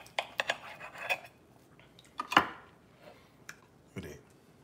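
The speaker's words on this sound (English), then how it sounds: "Let me cut off me a little slice of this pork chop" A knife slices through a cooked pork chop on a plate, making scattered clinks and scrapes of metal against the dish, with a louder clatter near the middle and quieter taps after it.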